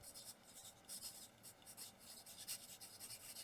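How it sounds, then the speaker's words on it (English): Pen scratching across a paper envelope while labeling it for storing craft scraps, a close, steady scribbling rasp with short rhythmic strokes and brief pauses, no voices. "So let me just write inspiration."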